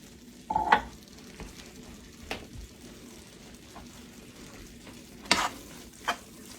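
A spoon stirs salsa into a warm nacho topping in a pan, producing a few scraping clinks over a soft low sizzle, with several distinct stirring strokes spaced apart.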